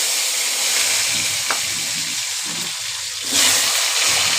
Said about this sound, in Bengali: দিয়ে দিলাম তেলের ওপর এবার দিচ্ছি আলুগুলো সবার প্রথমে আলুগুলো একটু ভেজে নিই